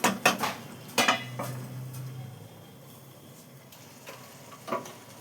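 A lid goes onto a pot of rice cooking with pointed gourd, giving several close metallic clanks and rattles early, then a quieter stretch and one last clink.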